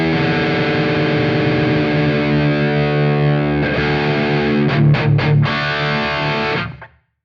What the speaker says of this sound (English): And then I did something that they call drop D tuning,